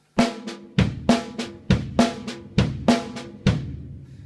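A drum kit plays an on-beat three-beat accent pattern: a dozen sharp, loud, close hits in short grouped bursts, each ringing out briefly before the next, with no voices.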